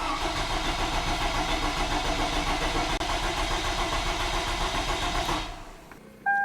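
A rebuilt 2002-2006 Toyota Camry engine cranks over with its injectors unplugged, a loud, even rhythmic churning of the starter that runs for about five seconds before stopping abruptly.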